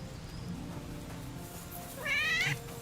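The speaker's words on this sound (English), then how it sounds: "Kitties!" Cats meowing in the medieval video game Kingdom Come: Deliverance II, a single clear meow rising out of steady game ambience and low background hum near the end.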